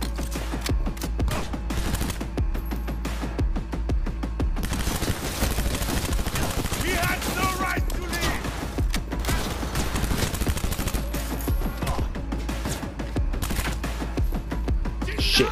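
Sustained gunfire rattles through a firefight in Cyberpunk 2077, a steady stream of rapid shots over a low droning background with no pause from start to finish.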